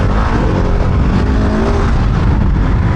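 A Husqvarna 701 Enduro single-cylinder motorcycle pulls hard in third gear at high revs, a loud, steady engine roar close by with constant wind rush and no talking.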